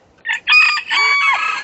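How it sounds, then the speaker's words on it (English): Bantam chickens cluck sharply and a rooster lets out a loud, close crow, short bursts followed by a sustained, wavering call in a quiet farmyard. "they're loud little creatures. But he's got some pretty bantam chickens here"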